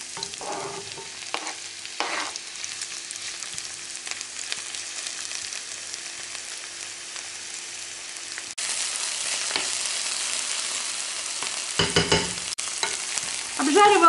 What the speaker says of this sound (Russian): Обжаривала лучок примерно 2 минутки.